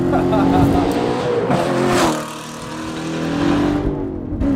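A high-performance Corvette engine revs to 5,000 RPM, a loud, close, harmonic roar that holds, dips, then swells again, with a voice briefly over it.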